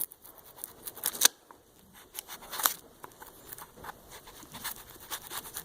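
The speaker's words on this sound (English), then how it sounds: "I'm going to take my nice Luwex knife and trim it off that way." A Luwex knife trims excess shrink wrap off an air-ride part, giving several sharp, close snips and slicing scratches in quick bursts against a quiet background.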